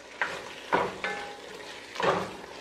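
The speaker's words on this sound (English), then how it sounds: "Give it another stir just to brighten everything up with the final ingredients that we added there" Mango talkari with cilantro being stirred in a pot: a few scraping stirs with soft sizzling between them, close and moderately loud, with no talking.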